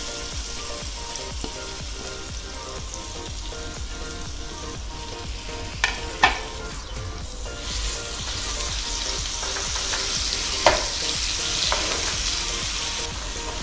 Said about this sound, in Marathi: तेल तापल्यावर आपल्याला त्यात हा मसाला घालायचा आहे.